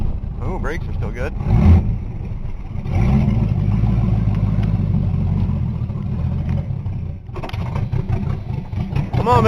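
An old Ford Granada engine runs rough and a little rich, its uneven mid-pitched idle rising and dipping steadily throughout while a voice talks over it.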